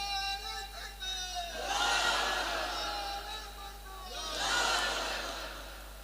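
Crowd at an outdoor Islamic religious sermon roaring a takbir chant in two loud collective swells, each rising and fading over a couple of seconds, with a steady hum underneath.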